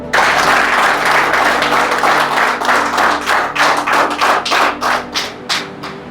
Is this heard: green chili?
no